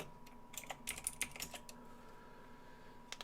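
Keys clatter on a computer keyboard during a strategy game session, a quick irregular burst of close taps followed by a pause and a final couple of keystrokes.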